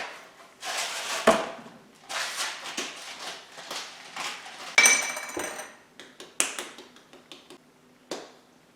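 Turkey chili being stirred in a slow cooker, a spoon knocking and scraping against the crock in irregular close taps and clinks, with soft gaps between strokes and no talking.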